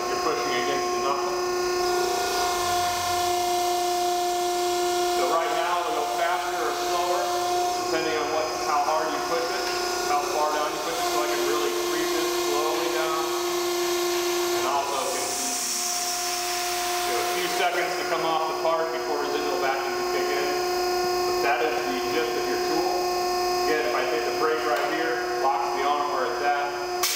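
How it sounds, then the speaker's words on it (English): A hydraulic manipulator arm lifting a 300-pound sheet metal plate gives off a steady tonal hum and whine with mechanical rubbing, heard close under ongoing talk. "This arm is lifting, this is about a 300-pound plate, but this arm has a capacity of 600 pounds."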